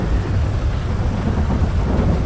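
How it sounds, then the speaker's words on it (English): Heavy rain and a deep rumble of thunder fill a stormy scene in GTA 5, a dense, steady, loud wash with no pauses or talk. "just be careful in this rain"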